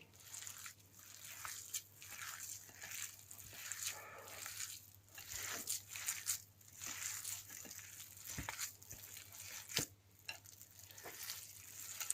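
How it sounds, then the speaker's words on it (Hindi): Chicken nugget ingredients, including butter, being stirred together in a bowl: soft, wet, squelching mixing strokes in an irregular rhythm, quiet and close, against a faint steady background hum. "अब हम इन सारी चीज़ों को मिक्स कर लेंगे।"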